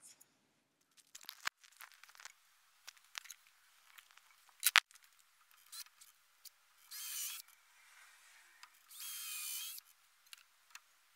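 Power drill driving screws into a reclaimed-wood table frame, with two short, quiet whirring bursts amid scattered clicks, knocks and handling noises, heard close with no talking.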